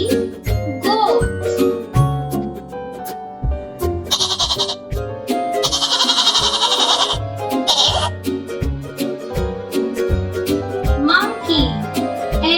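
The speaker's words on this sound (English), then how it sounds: "goat." Goat bleating set against a busy children's song backing, with music and tinkling percussion running throughout the 12 seconds; the bleat is mixed in among the instruments rather than heard alone.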